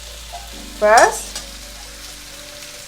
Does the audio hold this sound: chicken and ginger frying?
yes